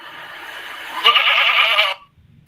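A single goat bleats close and loud, a wavering cry that swells midway and then cuts off abruptly.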